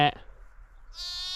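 A sheep bleats once at lambing time on a farm with black Mayo newborn lambs, a short close call followed by quiet, then a brighter higher bleat rising near the end.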